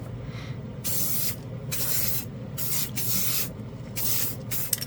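Colorshot acrylic spray paint hisses from an aerosol can onto metal in four or five short bursts with gaps between them, close and fairly quiet, with no talk.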